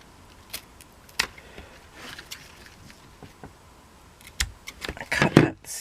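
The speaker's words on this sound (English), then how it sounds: "I cut that smidge on the crooked side" Scissors trimming ribbon for a hair bow, a handful of crisp snips scattered over several seconds, ending in a quicker cluster of louder close cuts, with faint handling noise in between.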